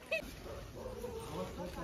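Dogs bark and yip at a farmhouse near a jungle in Shahapur, sharp short calls rising over a murmur of background voices.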